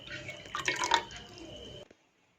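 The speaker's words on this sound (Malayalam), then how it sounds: "3/4 ഗ്ലാസ് പാല്, ബാക്കി വെള്ളം ഒഴിച്ചിട്ടുണ്ട്" A brief splashing pour of water into a pot for making tea, close and fairly quiet, lasting under two seconds before cutting off.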